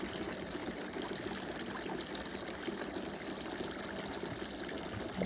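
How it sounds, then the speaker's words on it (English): Garden water fountain in a backyard, a soft continuous trickle and splash of falling water, faint and even, heard alone without talking. "Her water fountain. She loves this water fountain."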